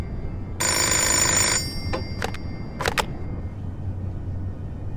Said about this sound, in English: I'd better try to give him a ring.